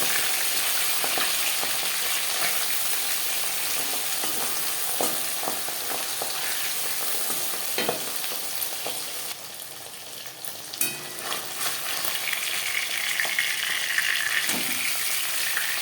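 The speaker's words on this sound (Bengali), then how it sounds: "মাছ আমি হালকা করে ভেজে নেব।" Pabda fish frying in hot oil, a dense continuous sizzle with occasional crackles and a brief dip midway, close and loud with nobody speaking.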